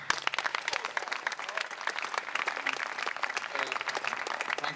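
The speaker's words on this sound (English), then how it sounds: "Thanks for the round of applause as well." Applause at a boxing press conference, a dense, steady round of clapping from a crowd in a room, lasting throughout without talk.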